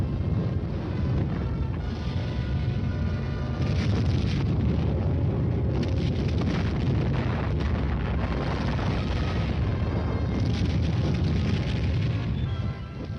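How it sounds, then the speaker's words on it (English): A supporting artillery barrage of conventional, non-atomic fire, heard as a continuous rumbling roar of distant explosions with low booms that swell and fade throughout. "the supporting elements lay down a curtain of non-atomic fire"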